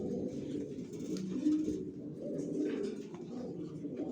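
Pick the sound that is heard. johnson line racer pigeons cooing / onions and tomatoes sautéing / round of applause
johnson line racer pigeons cooing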